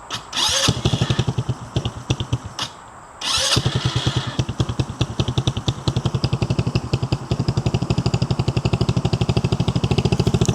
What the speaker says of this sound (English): So I'm going to let this engine run for 20 minutes